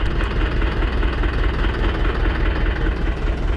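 Ursus C-360 tractor engine idling in a garage, a steady low rumbling drone with even vibration, continuous and fairly close throughout with no talking.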